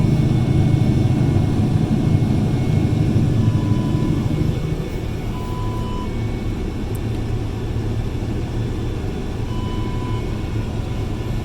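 A tractor engine labours steadily through a muddy, rutted field, a loud continuous low rumble that eases slightly partway through and holds steady, with no voices.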